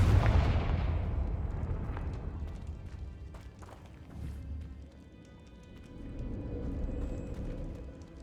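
A Confringo blasting spell goes off in Hogwarts Legacy, making a heavy booming explosion at the start that decays into rumbling debris and crackles, followed by scattered impacts and low rumble.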